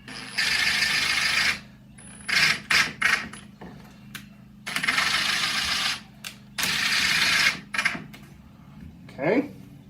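A power drill driving a 1 5/8 inch screw into scrap wood in several short whirring bursts with brief pauses between, close and loud, with a voice speaking near the end.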